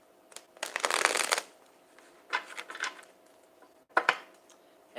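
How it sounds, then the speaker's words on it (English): Tarot cards shuffled by hand, a long dense riffling burst near the start, then shorter flurries of card flicks and a couple of sharp snaps toward the end, close and clear with no talk. "I'm going to reshuffle that one more time."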